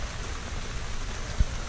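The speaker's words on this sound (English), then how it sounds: "So it is raining and everything" Steady rain falling outdoors on a poor-weather day, a continuous soft wash of drops heard alone at moderate level, with a couple of brief low thumps near the end.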